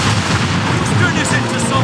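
Ship cannons fire in a naval battle in Assassin's Creed Rogue, a loud, dense barrage of booming blasts that fills the scene.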